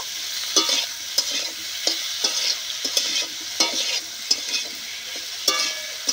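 Salted tomatoes frying in a pan for a vegetarian ridge gourd dish, stirred continuously: a bright hiss of sizzling under regular scraping strokes of the spatula, each about half a second apart.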